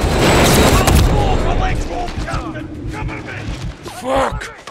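Gunfire and a booming blast in the Call of Duty Modern Warfare 3 campaign: a loud, heavy burst at the start gives way to scattered shots and rumbling, while voices talk over the action.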